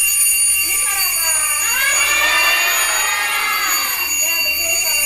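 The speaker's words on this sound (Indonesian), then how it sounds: "Ya betul, suara alarm." An alarm played aloud for a classroom guessing game gives a loud, continuous electronic ringing that rises and falls in sweeping tones. A faint voice sits under it.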